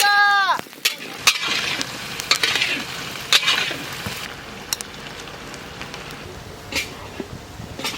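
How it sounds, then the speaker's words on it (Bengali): Potatoes frying with a spice paste in a pan in a village kitchen, stirred with repeated scraping strokes over a steady sizzle; a brief whistling tone opens the sound. "এখন আমরা আলু দিয়ে মশলাটাকে কষিয়ে নেব।"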